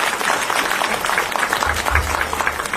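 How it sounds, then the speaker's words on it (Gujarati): Audience clapping at the launch ceremony of a Poshan Pakhwada nutrition fortnight celebration, a steady, dense burst of applause from a crowd lasting a few seconds. "એમના માટે આપણે બધા જ તાળીઓ પાડીએ."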